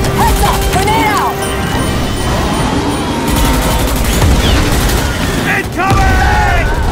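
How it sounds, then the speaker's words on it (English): A grenade explodes in a chaotic Unreal Engine shooter firefight against bugs, a heavy boom buried in a dense, loud mix of gunfire, mechanical clatter and shouted voices. "Grenade out!"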